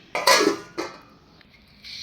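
A metal lid clatters onto a pot with a couple of sharp clanks, followed by a softer rattle and faint kitchen noise.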